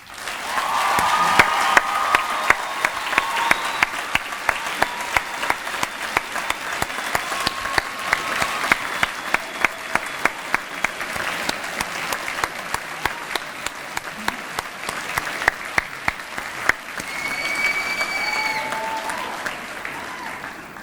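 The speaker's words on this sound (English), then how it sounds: "I think it will be most appropriate for our graduates to show their gratitude by thanking you with a round of applause" Graduation ceremony audience for Arts and Social Sciences graduates giving a long, steady round of applause that holds at even strength, with a few brief cheers rising over the clapping near the end.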